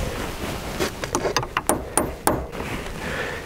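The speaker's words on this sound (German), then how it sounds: "Und jetzt kommt der Splint noch hineingeklopfelt." Hammer taps drive a thick split pin into a reinforced Polaris Sportsman differential cover, about eight sharp metallic knocks in an uneven run, close and loud.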